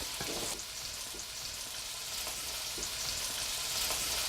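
Sauce for a pork chop dish bubbles and sizzles steadily in a pan on the stove. The hiss stays broadband and close, with a few stirring or spoon scrapes and no voices.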